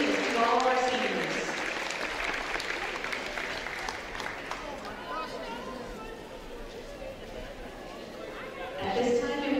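A crowd at a high school volleyball match claps steadily for seniors and their parents for several seconds while voices chatter and call out over it, the noise swelling again near the end.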